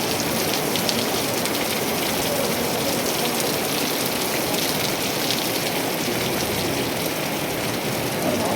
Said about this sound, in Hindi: ये मेरे पीछे आप देख सकते हैं प्राकृतिक पानी आ रहा है